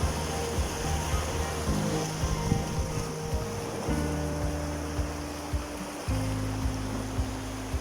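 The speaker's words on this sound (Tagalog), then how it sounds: "Marinig mo talaga yung hampas ng alon" Sea waves washing and breaking on a shore near Muscat, Oman, a continuous wash of surf and wind noise with tonal sounds that rise and fall, no voices.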